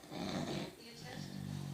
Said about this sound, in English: Listen to her snore as well.